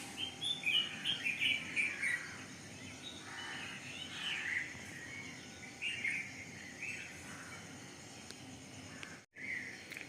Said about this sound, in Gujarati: અને ચકલીનો તો બહુ મસ્ત અવાજ આવે છે.